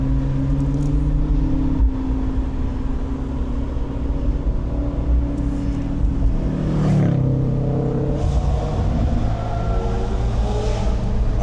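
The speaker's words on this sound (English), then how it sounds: "I can hear his tires squealing." A Lexus SUV accelerates hard, its engine droning steadily at a moderate distance under a continuous broad rumble of road and wind noise.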